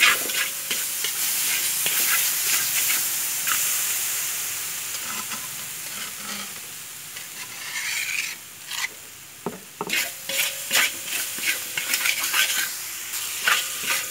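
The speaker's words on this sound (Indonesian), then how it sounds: "kita tumis sekitar 2 menit lah ya, 2 menit" Seasoning paste for seblak sautés in a little oil in a pan, with a continuous loud sizzling hiss and steam, then a series of scraping, clattering stirring strokes toward the end, with no voices.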